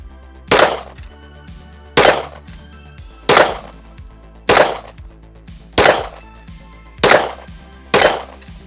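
Seven loud gunshots from an S&W Performance Center M&P 10mm pistol fired at a plate rack, evenly spaced about 1.3 seconds apart, each with a sharp crack, a metallic clang and a short ringing tail.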